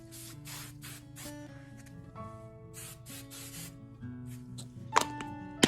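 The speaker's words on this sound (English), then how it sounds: "just do a little bit of hairspray" Hairspray hisses onto freshly curled hair in several short bursts, soft and close, over steady background music.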